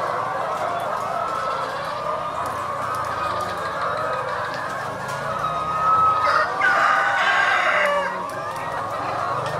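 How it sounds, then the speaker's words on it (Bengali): Laying hens on a chicken farm fill the air with a constant layered chorus of clucks and cackles, with a louder, sharper burst of calls rising near the end of the stretch. "এই যে মুরগিগুলি ডিম পাচ্ছে, ডিমের মুরগ, গান গাচ্ছে মুরগিগুলি"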